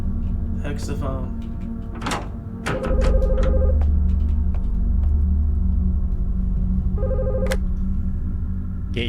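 An old-style telephone bell rings in bursts inside a video game, heard over a steady droning game soundscape with occasional clunks and knocks.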